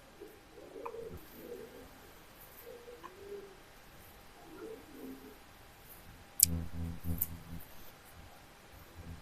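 Pigeons at a pet farm giving soft repeated coos, faint and fairly close against a quiet background, followed by a short burst of clicking and fluttering noise.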